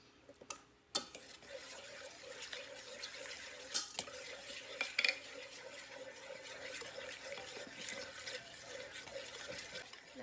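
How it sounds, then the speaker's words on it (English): Sour cream and seasoning being whisked in a bowl for a spicy chicken enchilada sauce, quiet continuous scraping and stirring with occasional light clinks of the whisk against the bowl. "And we're gonna whisk it. Give this a good whisk"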